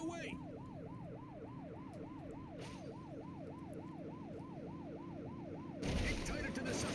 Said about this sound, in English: They won't know if you want to pull them over if you don't turn your siren on